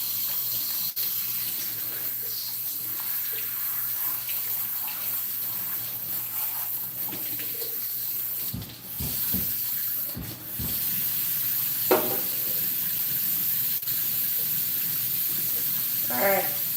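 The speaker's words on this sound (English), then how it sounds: "now that I've rinsed the Baby Moist shampoo out of my hair" Water runs steadily from a tap while shampoo is rinsed out of hair, making a continuous spray and splash with brief dips where the stream is interrupted and a few small splashy bursts near the end.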